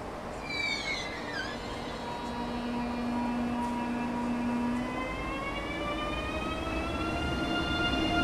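A train pulls into a platform in Train Sim World 4, set in Germany, with a steady rumble of the rolling cars and drawn-out whining tones that slowly shift in pitch as it brakes, no talking.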